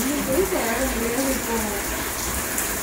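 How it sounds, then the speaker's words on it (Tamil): Heavy rain pours steadily outdoors, a dense continuous hiss under someone talking softly throughout. "வெளியே மழை வேற பயங்கரமாக கொட்டுது."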